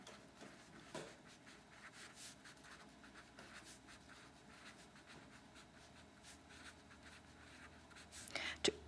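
A pen scratches faintly on paper in short, soft strokes under steady speech, with a faint hum behind.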